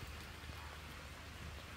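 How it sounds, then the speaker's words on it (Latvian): Rain falls in Zanzibar as a steady, even hiss of drops on surfaces, faint and continuous with no voices. "Zanzibarā šodien līs lietus"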